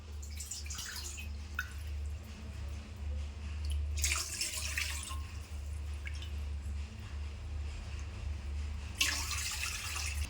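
Water is poured into a pot for a semolina sweet in a few separate splashy bursts, with quiet dripping and a low steady hum in between.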